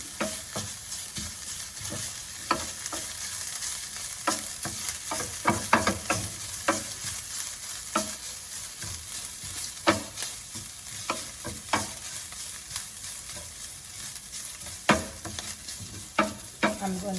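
Grated carrot and coconut sautéing in a hot pan, with a steady bright sizzle and repeated scraping stirs of a spoon at irregular intervals, close and clear, no voices.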